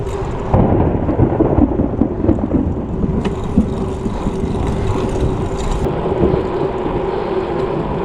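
Deep rumbling thunder from lightning strikes closing in, a broad continuous low roll filling the whole stretch at steady loudness, with a heavier swell near the start and no rain or voices.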